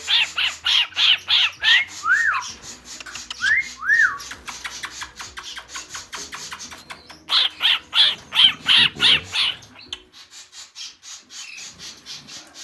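Fledgling chicks and adult birds make repeated loud, rhythmic whistling calls in bursts, broken by a few rising squawks and a quieter stretch in the middle, with faint rubbing noises underneath.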